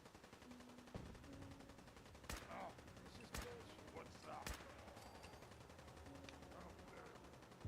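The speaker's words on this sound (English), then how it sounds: "And there's the explosions." Several sharp bursts of gunfire and explosions in Fallout 4, spaced apart over a low steady background, with a few faint electronic tones between them.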